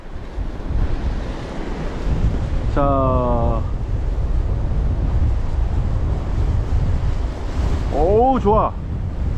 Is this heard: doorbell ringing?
no